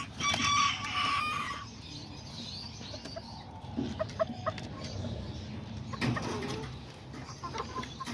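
Farmyard rooster and chicken among pinto fowl, a loud nearby crow at the start followed by scattered clucks and short calls, no talking.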